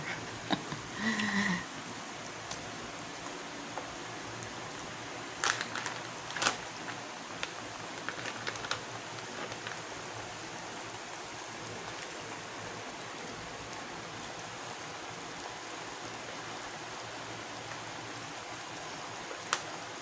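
Bacon cooking in a pan with water gives a steady, close hiss of simmering and sizzling that runs for the full stretch, with occasional sharper pops and crackles. No one talks over it.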